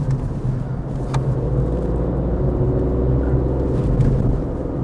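A Tata Tigor CNG car accelerates on an expressway with four people aboard and the air conditioning running, heard as a steady, heavy engine and road rumble from inside the cabin.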